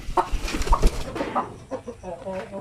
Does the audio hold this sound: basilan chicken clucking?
yes